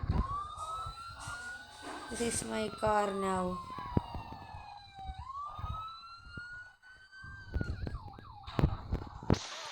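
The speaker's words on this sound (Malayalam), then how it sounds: "സൈറൺ എന്താ പറയുക" A police car siren in the video game GTA 5 wails with rising and falling tones over game sounds, heard under talk and in-game dialogue.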